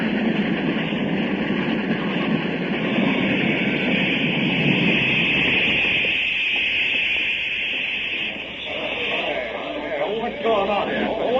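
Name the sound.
train stopping, radio drama sound effect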